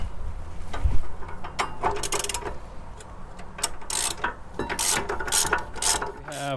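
A hand ratchet clicks in quick repeated bursts while snugging the rear brake caliper slide bracket bolts on a 2009-2018 Ram 1500 pickup, close and crisp with brief pauses between strokes.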